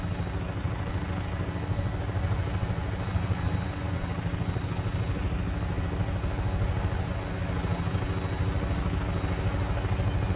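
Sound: helicopter flying in video game Fallout 4

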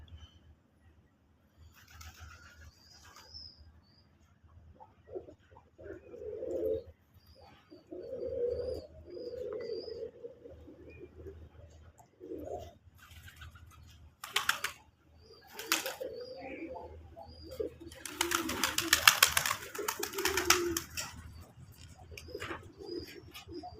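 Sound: domestic pigeons cooing at a farm

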